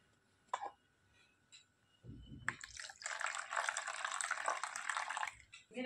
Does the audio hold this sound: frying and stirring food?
no